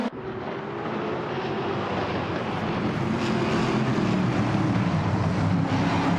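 AI race cars rev on the grid before a video game race whose pole car is a 2021 Ford Mustang in the Trans Am class. A loud, continuous engine roar builds slightly and holds steady throughout.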